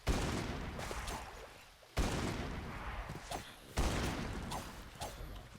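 Gunfire sounds in a Minecraft SCP modpack game as three loud booming shots, each trailing off in a long rumbling decay, spaced about two seconds apart.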